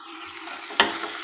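Onions and tomatoes frying in a pan, a soft steady sizzle broken by one sharp scrape of stirring near the end.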